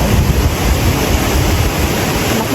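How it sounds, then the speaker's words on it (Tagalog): Strong, loud rushing water pours steadily and broadband near a garden, a continuous roar with no pauses or voices. "Lakas ng tubig pa rin."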